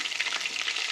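Ginger garlic paste dropped into hot oil gives a steady, bright, crackling sizzle throughout, even and fairly soft, with no voices.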